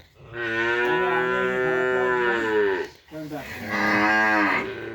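A cow on a cattle farm lets out two long, loud, harmonic moos close up, the second following a short pause.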